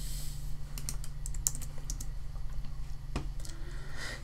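A search key phrase is typed into Google on a computer keyboard, with quick irregular bursts of light key clicks close by over a faint steady hum, with no talk.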